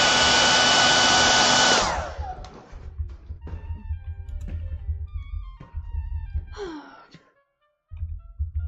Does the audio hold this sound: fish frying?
no